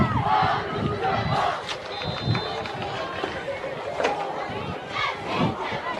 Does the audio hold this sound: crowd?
yes